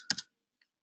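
A few quick keystrokes on a computer keyboard while working in Excel, a short close clatter followed by one faint tap, then silence.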